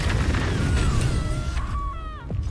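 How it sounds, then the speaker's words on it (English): Gnomes' necklaces blow up in Baldur's Gate 3, a loud low booming explosion rumbling through the first half, then dying away into sparse game tones and a faint chime. "That explosion was them making all the gnomes explode their necklaces."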